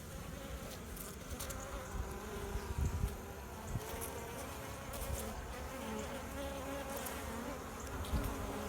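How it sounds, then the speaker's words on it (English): Around Layens beehive frames during a fall inspection, a yellow jacket wasp and bees buzz steadily and softly, with the drone swelling now and then as insects pass close. "there's a yellow jacket stealing some honey or nectar"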